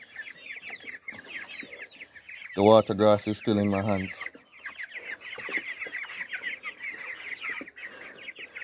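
Four-week-old chickens on a farm in Jamaica cluck and chirp steadily while crowding and pecking at feed, with a brief louder burst of clucking midway; someone talks over them in places.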